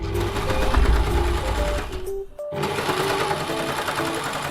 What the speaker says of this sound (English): We're going to serge over this line.